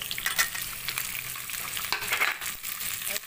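Onions dropped into hot oil with cumin for a dhaba-style mutton curry fry with a bright, crackling sizzle, with short bursts of spattering and stirring scrapes over a moderate, unbroken hiss.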